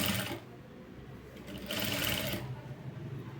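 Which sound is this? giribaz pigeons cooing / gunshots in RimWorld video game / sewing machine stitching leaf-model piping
sewing machine stitching leaf-model piping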